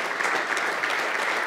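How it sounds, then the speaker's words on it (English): Dense, steady applause from an audience at a university talk and Q&A, honoring the organizing team, filling the whole moment at an even level. "you just keep applauding my team."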